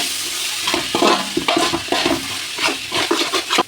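Chili and turmeric powder are stirred into a sizzling biryani masala base in a pan, with continuous frying hiss and repeated close scraping strokes of a spoon against the pan.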